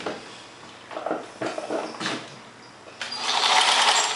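A sewing machine stitches a 5/8-inch seam on a 1946 Vogue vintage dress, several short whirring bursts followed by a longer continuous run, close and without talk.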